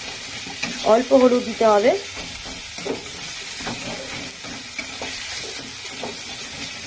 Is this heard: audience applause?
no